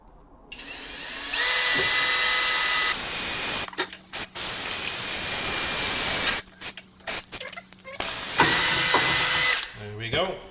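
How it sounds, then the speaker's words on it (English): A power drill bores a rivet hole in a tour bus body, whining loudly in several sustained runs broken by short stops and clicks, with brief talk between bursts. "So we need to push this in here, and then we need to drill a hole."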